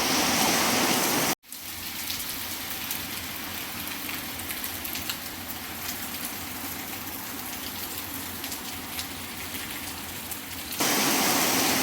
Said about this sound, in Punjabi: ਇਸ ਵੇਲੇ ਬਹੁਤ ਤੇਜ਼ بارش